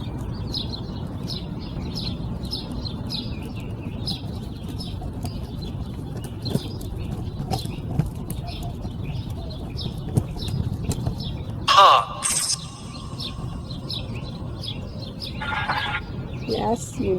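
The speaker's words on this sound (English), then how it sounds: "You can probably hear the birds singing." Birds call and chirp repeatedly outdoors, steady and moderately distant, with a pigeon-like cooing among them and a brief louder clatter near the end.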